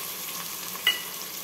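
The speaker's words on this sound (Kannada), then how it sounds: "ಈಗ ಜೀರಿಗೆ ಚೆನ್ನಾಗಿ ಸಿಡಿದ ಮೇಲೆ ಇದಕ್ಕೆ ತರಕಾರಿ ಹಾಕೋಣ" Vegetables and cumin seeds fry in hot oil in a pan, a steady close sizzle with one small splutter, no voices.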